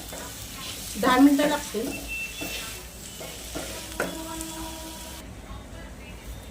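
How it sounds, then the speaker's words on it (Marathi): Dates roasting and melting in a hot pan for sugar-free jaggery laddoos, with soft sizzling and stirring scrapes in bursts, loudest early on, while a person speaks briefly. "खजूर भाजून घेऊया, मेल्ट करा. खजूर घातले आपण खजूरला थोडं मेल्ट करू."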